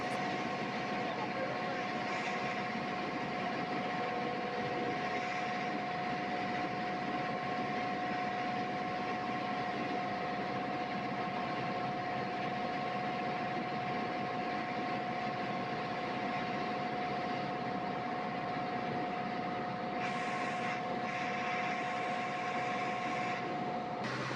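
A water bus engine at Hatirjheel drones steadily and evenly throughout, a constant mechanical hum with a faint tonal whine, accompanied by low background murmur.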